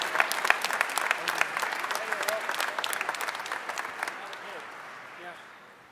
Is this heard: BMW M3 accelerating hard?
no